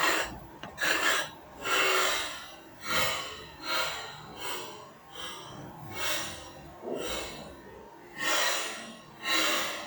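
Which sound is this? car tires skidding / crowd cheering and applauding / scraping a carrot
scraping a carrot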